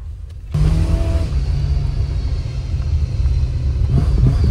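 An old beater car built as a hearse pulls away in first gear; a deep, loud engine rumble cuts in abruptly and holds steady and close, with no talking.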